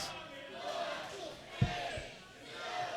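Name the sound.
wrestling event crowd cheering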